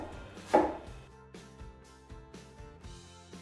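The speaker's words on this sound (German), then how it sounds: "jetzt schneiden wir die Zwiebeln in feine Streifen" A knife slices onions into fine strips on a board, producing a steady series of about six crisp chops, with a louder first cut, close and distinct with no talking.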